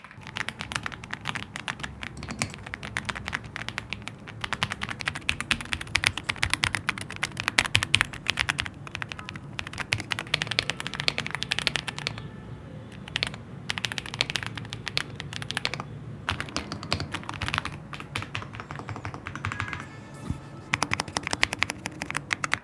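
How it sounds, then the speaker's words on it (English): Someone types on an Ola 75 mechanical keyboard fitted with creamy blue pro lubed switches, producing a close, rapid, uneven stream of soft clacks with brief pauses across about twenty-three seconds. "After changing the switches out in my Ola 75 to these creamy blue pro lubed switches, it's much better."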